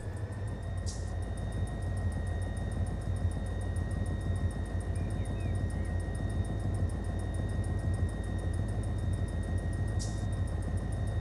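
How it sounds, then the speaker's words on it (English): Air pumping into the brake hoses of a train in the Run 8 Train Simulator: a steady, loud, constant rumble and hiss of compressor and rushing air, with two brief high clicks. "Get some air pumping going on."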